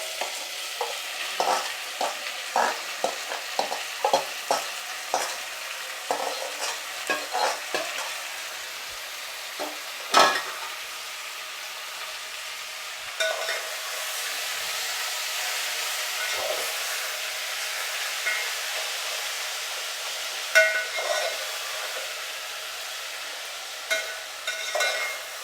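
Marinated vegetables for a home-style veg biryani sizzling in a pan, with frequent clattering stirs and scrapes at first, then a steadier hiss broken by occasional knocks of the spoon, close up and without speech.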